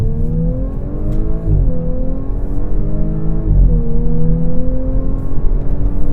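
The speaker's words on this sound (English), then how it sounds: "I'm gonna shut up and drive now" A 2018 Audi S4 Prestige with S-sport package accelerating on the road, its engine note climbing loudly and steadily through two gear changes, with no talk over it.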